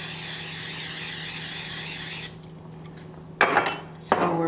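Cooking spray hisses in a steady burst over a small muffin tin for baked donut holes, then stops, followed by a couple of sharp metallic clanks of the tin being handled.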